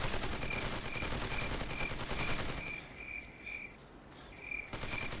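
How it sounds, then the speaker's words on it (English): Distant gunfire from enemies in the video game Ghost Recon crackles faintly under a steady background hiss, with a repeating high electronic beep. "They spotted me, started shooting at me."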